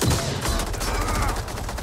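Rapid burst of gunfire in the Mortal Kombat 11 story mode: a dense, continuous fusillade of shots, loud and close, lasting under two seconds.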